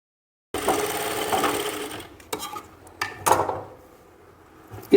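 A sewing machine stitches a designer blouse in a brief whirring run, followed by scattered mechanical clicks and knocks as the fabric is handled.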